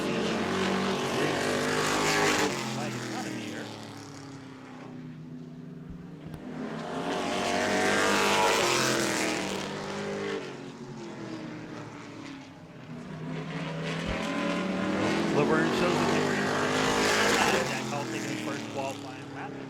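Pro trucks racing around a short oval track during qualifying at Auburndale, engines swelling loudly as they pass, fading and returning in repeated waves of roaring revs, with a commentator talking over the noise.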